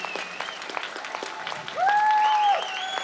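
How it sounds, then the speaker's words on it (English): Applause from an audience after a long meditative music performance, continuous and fairly close, with a bright sustained tone rising over the clapping midway through. "Let us give a very big applause."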